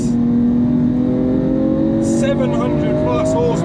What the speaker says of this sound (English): once you can open it up and you can feel those gear shifts, they are